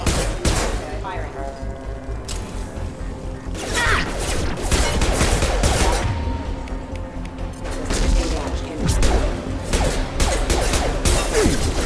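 Sustained gunfire bursts and booms in a Mass Effect 2 firefight against security mechs, dense and loud throughout with crashes and mechanical clatter, while voices talk over the shooting.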